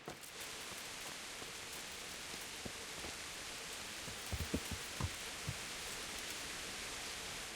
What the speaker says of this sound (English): I love the sound of rain.